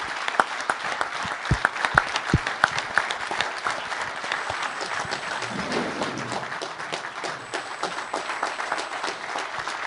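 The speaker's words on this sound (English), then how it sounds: "Will you please stand and let all of us give you a warm round of applause?" A large audience applauds Ukrainian soldiers at a gathering in Davos, a steady, dense round of clapping that lasts throughout, with a few sharper individual claps standing out near the start.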